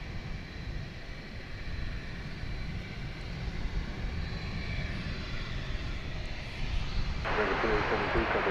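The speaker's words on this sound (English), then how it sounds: "So we just saw American Flight 2872 going to Las Vegas in Airbus A321" An American Airlines Airbus A321 bound for Las Vegas passes at DFW Airport at night. Its jet engines make a low, steady rumble that swells louder near the end, with voices talking over it.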